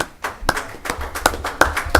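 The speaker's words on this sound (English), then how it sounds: "I just want to give you a round of applause." A few people clap at a village board meeting, sparse individual claps ringing out close and sharp in an uneven rhythm, roughly eight distinct strikes over two seconds.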